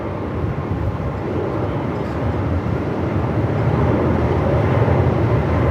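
A large Atlas Air Boeing 747 on final approach into Melbourne Airport, arriving from Honolulu in strong gusty wind, gives a steady, distant jet roar that swells slightly louder over several seconds, blended with wind noise.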